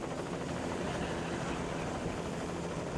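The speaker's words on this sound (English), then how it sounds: "You can turn up the audio a little bit because I was hanging out of a helicopter." Helicopter in flight over Chiapas, Mexico, recorded from inside the cabin beside an open door: a loud, constant rotor and engine roar with rapid blade chop filling the whole stretch, no voices.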